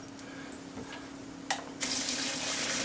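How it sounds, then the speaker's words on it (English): Poaching liquid drained out of a pan into a sink after it comes off the stove, a brief splash and then a steady, close rushing pour of water that keeps going to the end. "drain out the water,"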